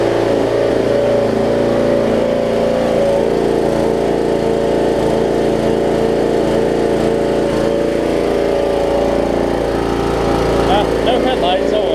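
A Briggs Vanguard engine on an old Murray riding mower runs at a steady, loud, droning idle from close by, with a constant hum throughout and a voice talking faintly under it.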